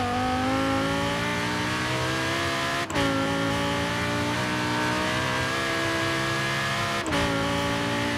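An Audi R8 in Forza Horizon 3 accelerates hard, its engine note climbing loud and close through the gears, with two brief breaks at the shifts before the pitch rises again.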